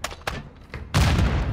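A grenade goes off in Call of Duty: Modern Warfare II as a loud, close, broad blast after a few short sharp thumps and gunfire pops, with the rumble sustaining to the end.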